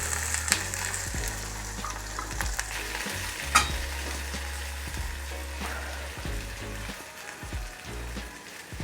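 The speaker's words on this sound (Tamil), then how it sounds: "இதை வந்து வெங்காயம் கொஞ்சம் நல்லாவே வதங்கிட்டு அதோட சேர்க்க போகிறேன்" Onions frying in a pan with mustard seeds, cumin and dried chili, a steady close sizzle with soft stirring scrapes throughout and no talk.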